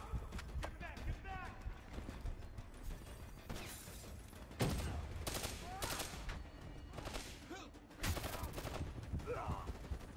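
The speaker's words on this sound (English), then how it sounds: "Somebody is shooting me." Gunfire in Call of Duty Black Ops 3, dense bursts of shots and impacts throughout with louder volleys midway and near the end, over a busy game soundscape with speech.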